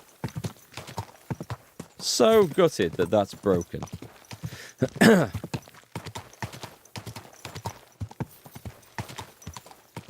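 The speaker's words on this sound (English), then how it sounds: "I'm going to ride back on the horse, though." Horse hooves clop steadily during riding in Kingdom Come Deliverance 2, a brisk rhythmic patter running throughout while someone talks over it.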